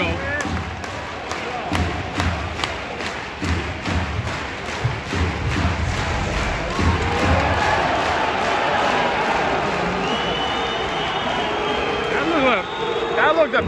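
Sustained loud arena crowd booing at a Swedish ice hockey match between Frölunda and Skellefteå AIK, a dense continuous roar with thuds and a commentator's voice over it.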